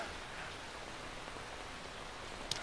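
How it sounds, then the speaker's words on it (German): Rain in the video game Metal Gear Solid 3: Snake Eater, a soft, steady hiss of falling drops with no break, plus one faint tick near the end. "Oh, gibt's jetzt Regen?"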